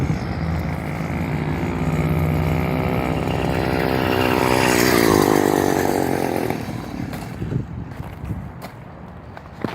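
A small two-stroke engine on a skate-type setup revs and buzzes loudly, pitch climbing to a peak midway and then dropping back toward a high idle, heard close with no talk.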